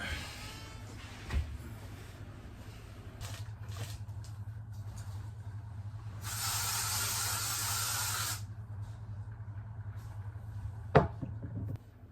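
An aerosol can of insecticide sprayed against mosquitoes indoors, one steady hissing burst lasting about two seconds amid quiet room noise, with a few faint knocks and a sharp click near the end.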